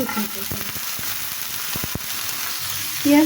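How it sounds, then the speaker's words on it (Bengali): Onions fry in oil with a steady close sizzle, punctuated by a few quick utensil clicks and a brief louder burst near the end; no speech. "পেঁয়াজটা ভাজার জন্য কিছু তেল দিয়ে দিচ্ছি আমি"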